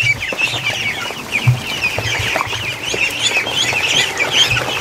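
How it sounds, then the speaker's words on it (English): A crowd of Muscovy ducks and geese kept indoors chatter all around, a dense, continuous mix of high peeping calls and low hoarse notes, near and busy without pause. "It's a sea of ducks around me."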